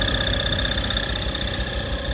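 A York 210 air compressor mounted on a Dodge M37 truck runs steadily, building pressure. It makes a loud, close, continuous mechanical drone with a constant high whine over an engine rumble.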